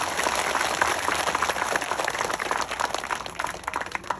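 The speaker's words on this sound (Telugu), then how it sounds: "పక్కన పడుకున్నవాడిని లేపడం కోసమైనా గట్టిగా ఒకసారి చప్పట్లు కొట్టండి." A seated audience at a spiritual discourse claps loudly together in one sustained, dense burst of applause that fills the space.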